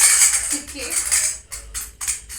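Silver coins are set one after another onto a metal plate, giving a few bright clinks and rattles, close and fairly loud, with quiet room sound between them.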